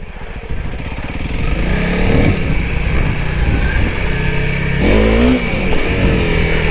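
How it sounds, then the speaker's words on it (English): A Honda CRF300L dual-sport motorcycle revs on a single-track dirt trail, its engine running loud and close, rising and falling in pitch as the rider throttles through the ride. "Very cool sound this bike makes."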